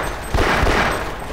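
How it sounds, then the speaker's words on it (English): Rapid automatic gunfire from Half-Life Source, a short loud burst of close shots cracking out over a steady game background. "Finally, now I can shoot something."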